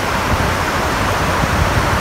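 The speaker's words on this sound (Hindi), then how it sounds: "ये है साहिल की लहरें।" Sea waves breaking along the shore at Gwadar beach in Balochistan, a steady broadband rush and wash of surf close by, continuous and loud, with no talking.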